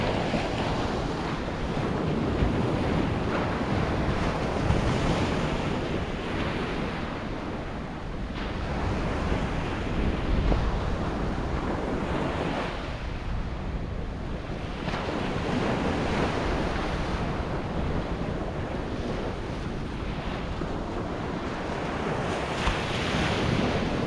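Sea waves breaking on the beach at Skegness on the Lincolnshire coast: continuous loud surf with rolling swells and steady wind buffeting the microphone, with no voices.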